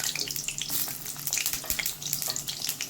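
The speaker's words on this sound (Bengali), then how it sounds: "আমি এখন পটলগুলো আগে ভেজে নেব" Sliced pointed gourds (potol) sizzle in hot white oil in a home kitchen pan, a bright crackling hiss with scattered pops and spits, fairly close and steady, no talking.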